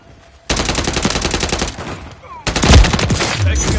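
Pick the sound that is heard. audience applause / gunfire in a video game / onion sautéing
gunfire in a video game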